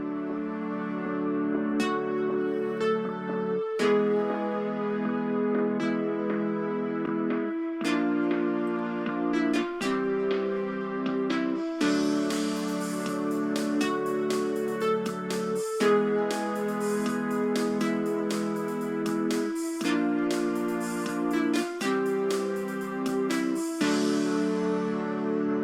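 A synth plays a draft melody for a LEGO roller coaster soundtrack, a sustained bright tone moving through phrased notes with brief gaps, steady and alone without voices.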